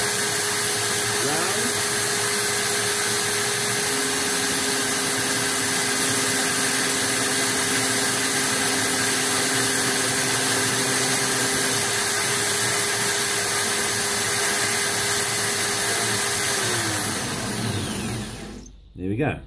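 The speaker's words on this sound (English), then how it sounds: "So let me just set the drill again." An electric drill polishing the inside of a small round pommel nut whines steadily at a constant pitch for most of the stretch, loud and continuous, then winds down near the end.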